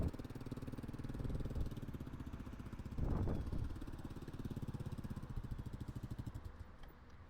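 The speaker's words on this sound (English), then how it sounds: "Little slow speed action there on your KLR." A Kawasaki KLR motorcycle making slow turns around a parking lot, its single-cylinder engine chugging at low revs with a brief throttle rise midway, heard from a moderate distance and fading slightly toward the end.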